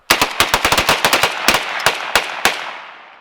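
A rapid string of loud, close rifle shots from an AK fired outdoors, a quick burst of about a dozen cracks with a few spaced final shots, each echoing and fading into a long decay.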